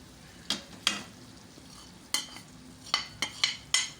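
Chicken karahi sizzles softly in a pan with spices while a utensil scrapes and clacks against the metal in sharp, irregular strokes, close up with no talk.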